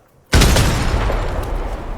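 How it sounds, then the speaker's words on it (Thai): A grenade blows up in the shooter game Arena Breakout, a sudden loud, close blast after a brief hush, followed by a long rumbling decay. "ระเบิดมาลูกนึงมาลูกพ่อสวยระเบิดใส่นี่สวย"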